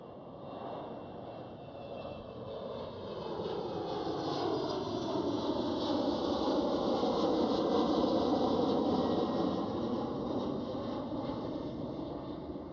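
A LOT Polish Airlines jet airliner passes at Amsterdam Schiphol, its engine roar swelling steadily with a shifting whine, loud and unbroken.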